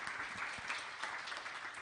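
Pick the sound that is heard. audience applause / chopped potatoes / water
audience applause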